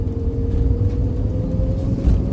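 A 1979 Porsche 928 with a five-speed manual, engine running smoothly with a steady low rumble and a faint constant whine, heard close and continuous with no talking.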